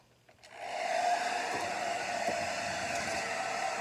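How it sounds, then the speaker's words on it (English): A hair dryer switches on and blows steadily on resin with a loud, continuous whooshing whine that holds to the end. "let's see if I blow this with the hair dryer"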